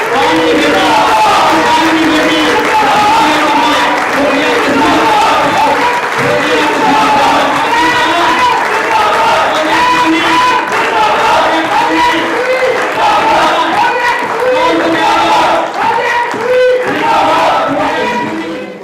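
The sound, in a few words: standing crowd applauding Fauzia Kasuri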